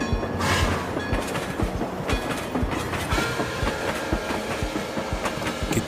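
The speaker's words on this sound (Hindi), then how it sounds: "रेल यार्ड से सीटी बजाकर रात की ट्रेन चली गई।" A night train departs a rail yard, rolling steadily along the rails with a continuous rumble and rhythmic clickety-clack of wheels, fairly close and loud throughout.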